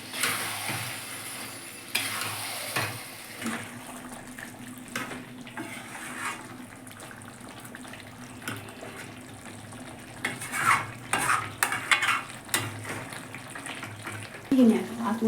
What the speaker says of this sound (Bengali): এবার মাংসগুলি মশলার সাথে ভালো করে সাজাবো